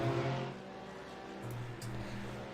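A Porsche race car in iRacing on the Mount Panorama Circuit, its engine droning past into turn 1, with a steady tone that drops and then returns as the car goes by at moderate distance.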